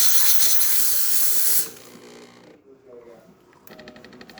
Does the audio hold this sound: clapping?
no